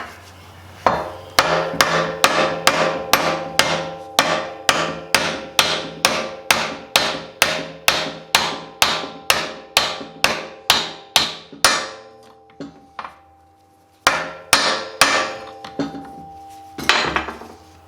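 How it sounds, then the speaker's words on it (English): Repeated metal-on-metal hammer taps drive a socket onto the inner race of a bearing on a Yanmar mini excavator, a long steady run of sharp close strikes, a brief pause, then a few more blows. "you take a socket that's the same size as the inner race there, and you tap on it"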